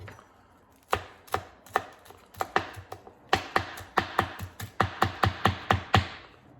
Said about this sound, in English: You can just mince it.